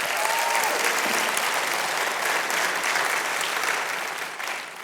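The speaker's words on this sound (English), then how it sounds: "Give them a hand clap." An audience at a church talk applauds, a dense sustained clapping from many hands that holds steady before gradually thinning toward the end.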